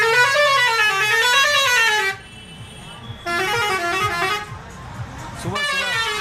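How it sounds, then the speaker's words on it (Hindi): Truck horns blare on a road in the morning, long sustained wavering honks sounding loud and close, stopping briefly midway before another horn starts up again, with heavy traffic rumble underneath. "ये सुबह जो ट्रक जा रहा है सब हॉर्न बजाते हुए"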